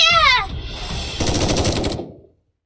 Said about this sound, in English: There are sounds of gunshots as Exia collapses.